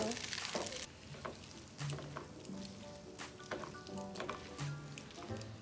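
Green onions and noodles fry quietly in a pan, giving a soft continuous sizzle broken by intermittent stirring and shuffling sounds.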